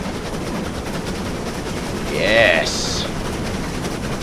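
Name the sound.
steam locomotive 35005 Canadian Pacific under power, Train Simulator video game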